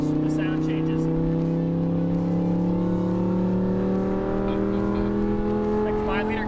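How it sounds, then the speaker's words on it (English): An Audi R8 engine revving slowly up through its rev range, a loud, steady, close engine drone that climbs gradually in pitch with a few brief voices over it. "I'm gonna go really slow through the rev range and you're gonna hear the change"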